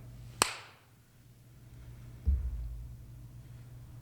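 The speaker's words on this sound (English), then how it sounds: "I'll give you a clap." One sharp, close hand clap rings out early on, followed by a quiet room with only a faint low hum and a soft thump later.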